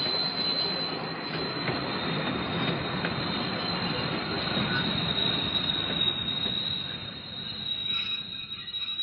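A train rushes past close below a window, a dense continuous roar of wheels and carriages with some squealing, steady throughout and easing slightly near the end, heard alone without speech.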